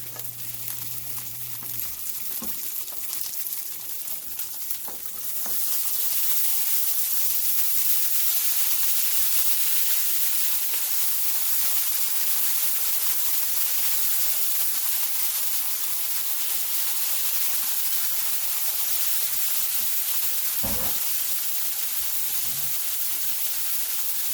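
Salmon and mixed vegetables fry in a pan, producing a loud, close, steady hiss and sizzle that swells after a few seconds and holds, with a couple of brief knocks.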